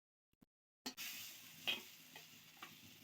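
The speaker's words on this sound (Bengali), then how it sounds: "এবারে ভালো করে ছোলার ডালটাকে ভেজে নেব।" Ground chana dal paste hits hot ghee in a pan, starting with a couple of faint taps and then a sudden loud sizzle that settles into steady frying, with a few small stirring scrapes close by.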